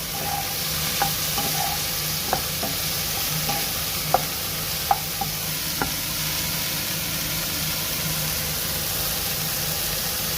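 Cauliflower frying in a pan for a winter dish while a spatula stirs it, giving a loud steady sizzle with a handful of sharp scrapes and taps scattered through, close up and without talk.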